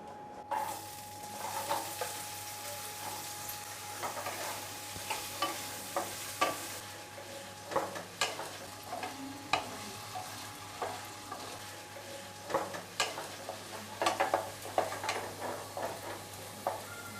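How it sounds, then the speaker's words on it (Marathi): Potatoes fry in ghee in a pan for a fasting pulao, a continuous sizzle broken by frequent scraping and stirring strokes of a spoon against the pan, close and fairly loud, with no talking. "आता ही बटाटी सुद्धा ना आपल्याला तुपावरती सोनेरी रंगावर परतून घ्यायचे आहेत"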